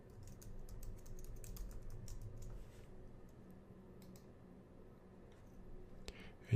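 Rapid keystrokes on a computer keyboard as a password is entered, a quiet close run of soft clicks that thins out midway, ending with a louder single key press.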